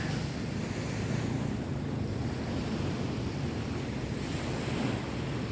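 Ocean surf at Ujung Genteng beach, Sukabumi, a steady broadband wash of breaking waves mixed with wind buffeting the microphone, continuous and moderately loud with no voices.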